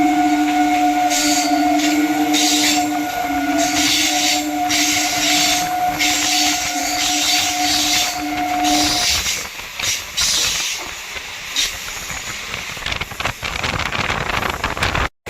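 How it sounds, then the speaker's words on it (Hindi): The Agra Cantt–Hoshiarpur Express passing close by during a crossing, heard from another moving train: a loud, continuous roar and hiss with a steady hum that drops away partway through, leaving a rougher rattling rumble. "एक और ट्रेन के साथ crossing, Agra cantt Hoshiarpur express"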